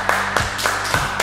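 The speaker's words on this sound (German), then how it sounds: "Mein erster Applaus bei dir, danke." Hand clapping for a performer: five sharp claps spaced roughly a quarter second apart, close and moderately loud, over a steady low hum.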